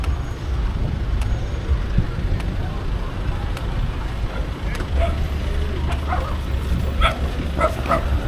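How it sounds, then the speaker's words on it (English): A pack of dogs barks on a street in Pattaya, with sharp yips and barks at mid distance over traffic rumble, growing busier toward the end while a person talks. "It's a pack of dogs."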